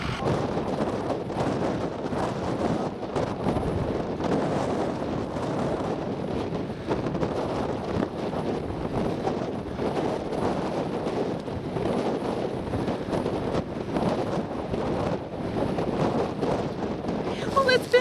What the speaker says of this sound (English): how bad is the wind today?